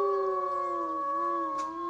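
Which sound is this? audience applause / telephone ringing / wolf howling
wolf howling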